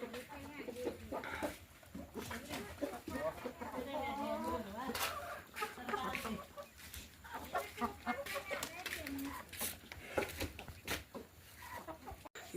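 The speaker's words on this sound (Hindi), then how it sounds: "देखिए बहुत सारे मुर्गियाँ हैं ये" Many hens cluck and a rooster calls in a hillside village, a busy flock close by with someone talking over the birds the whole time.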